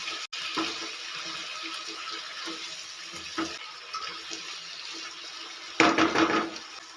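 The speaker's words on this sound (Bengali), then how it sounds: "তাই আমি খুব সামান্য পরিমাণে জল দিয়ে দিলাম" Water poured in a small amount into a mixed vegetable curry in a pan, a short splashing burst near the end after a steady background hiss, with faint clinks earlier.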